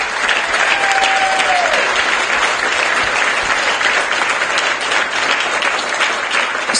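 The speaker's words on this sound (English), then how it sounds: "So I think we owe them a round of applause." An audience at a keynote and award presentation gives a sustained round of applause, dense steady clapping filling the room throughout, with a brief tonal whistle-like sound early on.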